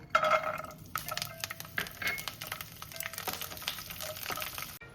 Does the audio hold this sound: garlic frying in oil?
yes